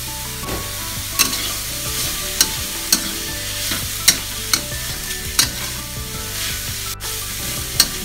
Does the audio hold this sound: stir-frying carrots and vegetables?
yes